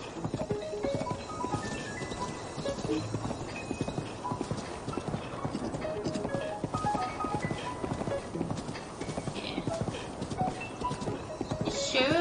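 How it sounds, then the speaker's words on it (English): Rapid hoofbeats clip-clop steadily throughout, a giant horse galloping in The Legend of Zelda: Breath of the Wild, with occasional snorts, over a busy background of game sounds and some speech. "it's the giant horse."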